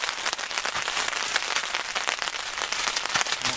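Steady rain at a campsite, beating on a FIELDOOR two-room shelter tent, a dense close patter with scattered sharper drops that holds evenly the whole time, no voices.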